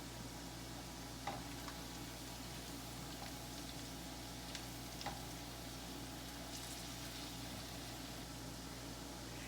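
Onions fry in butter in a pan, a soft, continuous sizzle at low level with a few faint clicks from moving them around.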